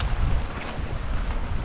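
Strong wind gusts buffet the microphone outdoors in Sitio Natob, Occidental Mindoro, as a storm approaches, a loud, low, rumbling blast that rises and falls throughout.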